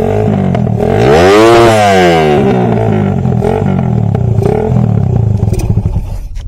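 A motorcycle engine fitted with a racing CDI revs hard up to about 14,000 RPM, its loud, distorted whine climbing steeply, peaking, then falling back and settling into a rough, rapid idle.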